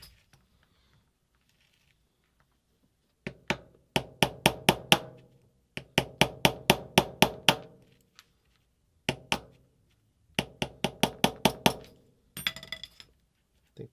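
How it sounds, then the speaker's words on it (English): Quick bursts of light metallic taps from a small hammer working on an LCD part during restoration, coming in several rapid clusters of five or six strikes separated by pauses, close and crisp with no talking. "let me get a little hammer"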